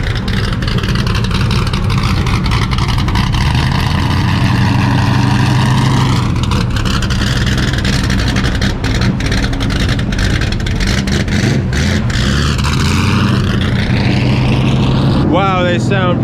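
Race car engines idle and rev loudly up close in the pit area at Petty Raceway, with side-exit exhausts, producing a steady droning roar with rising and falling pitch sweeps and a burst of revving near the end; people talk over it.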